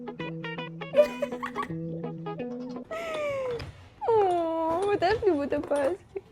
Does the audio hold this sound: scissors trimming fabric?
no